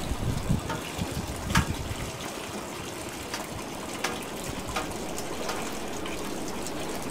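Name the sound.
wort draining from brew-in-a-bag grains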